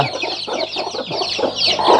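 Native country chickens cluck close by in a series of short, overlapping, uneven calls that come one after another.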